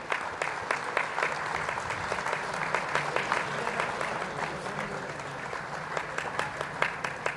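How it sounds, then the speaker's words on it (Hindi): Audience applause fills a hall at a sugar technologists' convention, a steady dense patter of many hands clapping continuously and fairly loud throughout, with no speech over it. "ખૂબ ખૂબ તાળીઓના ગડગડાટથી આપણે વધાવી લઈએ મહેમાનશ્રીઓના અભિવાદનને."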